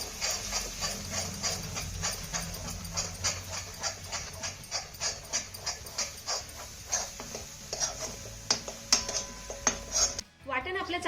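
A spoon stirs ground spice paste into roasted gram flour (besan) in a pan, producing close, rhythmic scraping and clinking strokes over a soft hiss, then a short pause near the end.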